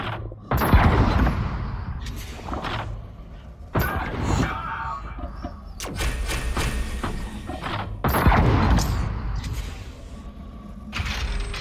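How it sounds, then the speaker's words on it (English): Two-handed shotgun-style weapon fired in the VR shooter Space Junkies, three heavy bursts at about 0.7, 3.8 and 8.2 seconds, each with a loud boom and a ringing tail, amid busy mechanical game sounds. "Oh, I need two. It's the two-handed weapon. Okay. It's like a shotgun."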